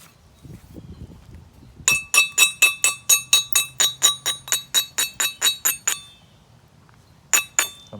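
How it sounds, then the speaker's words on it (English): A rapid run of bright metallic strikes on a large flint by direct percussion, with a ringing tone, about fifteen in steady rhythm, then a pause and two more sharp rings. "That's kind of like fingers on a chalkboard with all that ringing sound."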